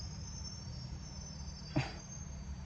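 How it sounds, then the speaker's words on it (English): Crickets and other bugs chirp outdoors in a steady, high, continuous trill under faint background hum, with one brief soft knock partway through. "there's so many bugs out here"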